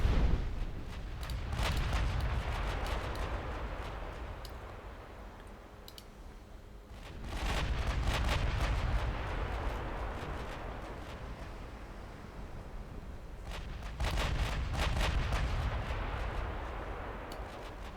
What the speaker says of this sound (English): An exploding destroyer